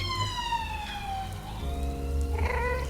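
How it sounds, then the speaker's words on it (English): Ambulance sirens wail and sweep down in pitch, then a second siren joins with rising tones over a low rumble of traffic on a major road, loud and fairly close. "Sorry about the sirens, guys."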